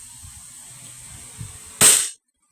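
An E&C 1101 Glock 17 Gen3 airsoft pistol loaded with 0.20 g BBs fires once: a single sharp, close crack with a short bright ring after faint background rustling, then silence.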